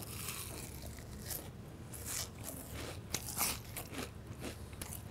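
Crunchy fried flatfish from fish and chips at a Jeju café is bitten and chewed up close. The crackles and crunches come in irregular bursts, with quiet gaps between bites and no voice.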